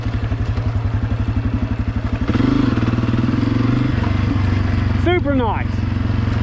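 Honda CRF250F dirt bike running steadily on a Hatfield McCoy trail, its engine a close, constant pulsing throb that swells louder partway through, with a rider talking over it.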